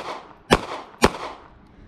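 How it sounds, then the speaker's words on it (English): Two sharp, close pistol shots about half a second apart from a Smith & Wesson Bodyguard 2.0 firing Fiocchi Defense Dynamics ammunition, each a loud crack with a short decaying tail. "we're just gonna draw the gun here, come up and shoot"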